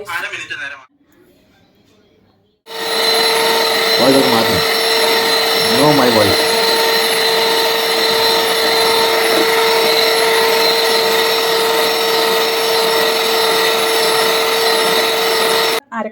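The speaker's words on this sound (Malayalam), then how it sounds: "പഞ്ചസാരയും മുട്ടയാണ്. അത് 1 മിനിറ്റ് ബീറ്റ് ചെയ്യണം." An electric hand mixer beats eggs and sugar for a chocolate cake, starting after a brief quiet pause with a loud, steady high-pitched whine; a voice is heard briefly over the motor.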